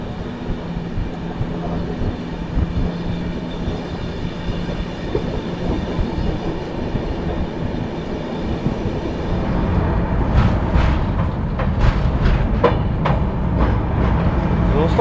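The Jharkhand Sampark Kranti Express rolls along in dense fog with a loud, continuous rumble and rail roar, rhythmic clatter building toward the end, all heard from close inside or beside the train.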